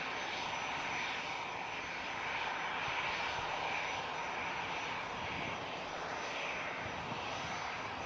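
An EasyJet airliner taxiing at Manchester Airport, a steady loud engine roar and whine held evenly throughout with no talking.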